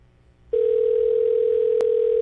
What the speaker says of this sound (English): Let's see if he answers the phone line.